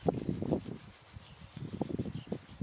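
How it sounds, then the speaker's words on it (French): Hands rub briskly together during a qigong self-massage routine, giving soft, close, rhythmic swishing strokes in quick bursts, with a brief pause midway. "À nouveau, on frotte les mains."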